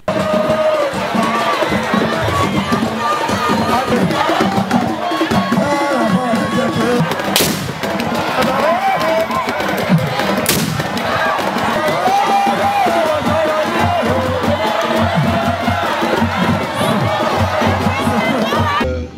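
An immense crowd at the Agbesiyanlé ceremony in Sadadji honouring Waci heroes roars and cheers continuously, with sharp bangs like gunfire or fireworks cutting through and a narrator speaking over the din.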